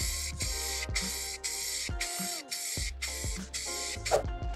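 Blue spray paint hisses from an aerosol can onto the center squares of a box, steady bursts repeating in a regular rhythm with brief gaps between sprays, close and fairly quiet.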